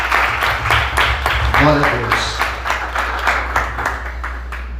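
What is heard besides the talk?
congregation applauding in church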